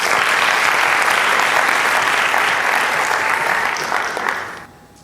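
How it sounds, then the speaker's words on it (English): Audience applause after a Bharatanatyam dance at an arangetram, a sustained burst of clapping from a hall crowd that fades out over the last second. "Krishna, a very big round of applause."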